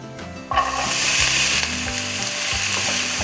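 Finely chopped onions frying in hot oil in a kadai for paneer masala, a loud, steady sizzle that jumps up abruptly after a short quieter moment and keeps crackling without a break, close and dense.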